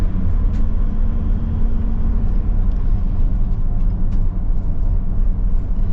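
A 2024 Storyteller Stealth overlanding van, a cargo van on stock suspension, drives along with a steady, loud low rumble of engine and road noise, with faint rattles and creaks throughout.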